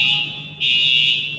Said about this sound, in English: Yeah, we're getting our fire alarm.